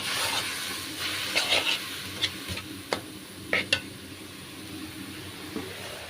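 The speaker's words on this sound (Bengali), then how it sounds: "এখানে শাকগুলো রসুন পুড়িয়ে জিরা দিয়ে তেলে দিচ্ছি।" Leafy greens fry in hot oil with burnt garlic and cumin, giving a steady close sizzle broken by several sharp stirring scrapes and clinks. No one talks.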